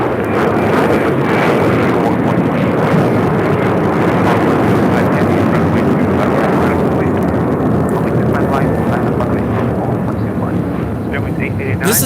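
An Alaska Airlines Boeing 737-800 bound for San Jose, Costa Rica takes off at LAX, producing a loud, steady, broadband roar that holds nearly unchanged for the whole stretch.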